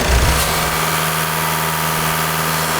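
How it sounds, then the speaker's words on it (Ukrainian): A diesel engine idles steadily nearby while warming up, a loud constant rumble with a low hum and faint mechanical whine, no voices. "Нагріваємо двигун,"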